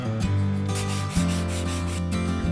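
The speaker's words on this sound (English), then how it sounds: "We have to take the sanding block and go across and hit each side." A sanding block rubs across the sides of a handcrafted wooden box in a workshop, a close, continuous scraping over a low musical bed.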